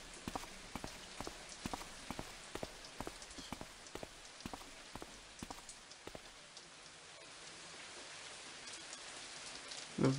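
Steady rain hiss on steep roofs in a Thief fan mission video game, with a run of sharp, evenly spaced drip or tap sounds, fairly quiet and continuous, with no voices.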